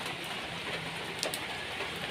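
Heavy rain pours steadily on a road in Quezon, a dense, even hiss of drops close by with no voices.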